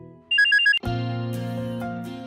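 A phone ringtone for an incoming call: a quick burst of repeated bright chirps, then a sustained melodic ringing tone, loud and close, with no talking.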